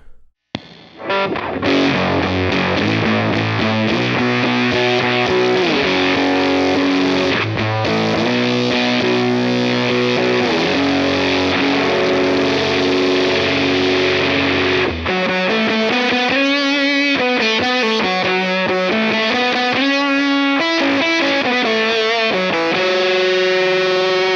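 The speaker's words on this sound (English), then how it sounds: "already you kind of hear that like swirling kind of filtery effect that's happening" Loud, sustained electric guitar chords through a Whimsy Machines Great Fantabulizing Whatsitdo fuzz pedal with a swirling, sweeping filter effect, played continuously without any talking.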